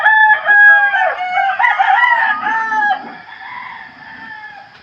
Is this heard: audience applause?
no